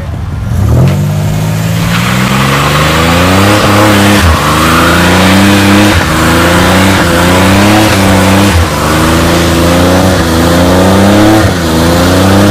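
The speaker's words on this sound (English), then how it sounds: "No, that's a burnout. That miata go." A Mazda Miata does a loud, close burnout, its engine revving hard in repeated rising and falling pulls with tire squeal layered over the strained mid-pitched engine note, sustained without a break.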